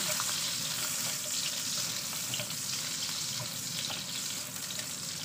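Garlic frying in a pan for a Filipino bulanglang and ginataang gulay dish, a steady close crackling sizzle running unbroken and fairly loud throughout.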